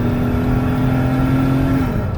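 A 2017 Dodge Caravan GT wheelchair van with 70k miles accelerates on a highway test drive toward about 68 mph, its engine a loud, close, steady whir with a gently rising tone.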